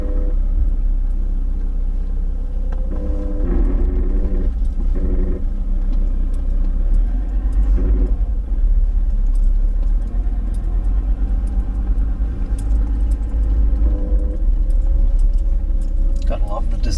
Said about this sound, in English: Gotta love the descent control. Don't even have my foot touching the brake. It's working hard though. You can hear it.